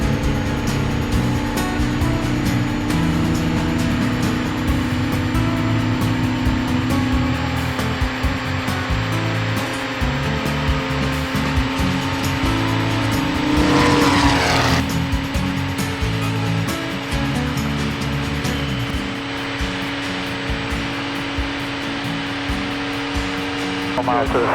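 An RV-10 light airplane with an automotive engine conversion taking off at about 4,000 RPM, a steady loud engine drone heard from inside the cabin, with voices talking over it.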